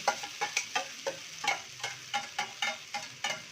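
Poha is being tossed and stirred in a pan with a utensil, giving a steady series of light scraping taps about every quarter second, close and fairly quiet with a soft sizzle beneath.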